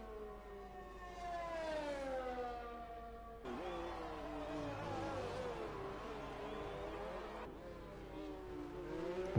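Formula 1 race cars in the F1 2020 video game at Belgium howl with high revving engines rising and falling through gear changes, with cut-ins between cars, loud and continuous with no talk.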